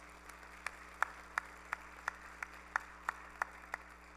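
A handful of sharp, evenly spaced handclaps ring out in a quiet church hall for deaconess Lee Bong-nam. The claps are sparse and fairly faint, about a dozen single claps, with no talking over them.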